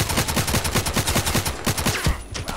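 Rapid bursts of automatic gunfire in the online shooter Contract Wars, a steady run of loud close shots with brief gaps and a sharp final volley, no talk over it.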